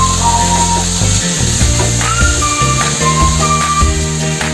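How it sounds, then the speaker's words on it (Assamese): Mustard paste and onions are stirred in a pan for an Assamese egg curry, giving a continuous close scraping and rubbing over a steady background hum, with no voices. "অলপ সময় পিঁয়াজখিনিৰ লগত পেষ্টখিনি এনেদৰে লৰাই থাকিম"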